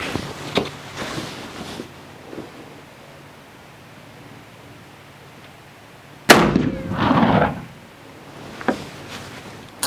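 Black powder gunshot using FFFg powder, from a .44-40 or .45 Colt firearm, a sharp loud report with a short rumbling tail; a fainter earlier shot appears near the start and another soft pop follows later.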